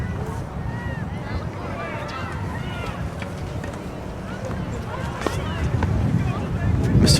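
Steady blustery wind rumbles across the microphone at an outdoor girls' tennis match, with faint distant calls and clatter underneath, growing a little stronger toward the end.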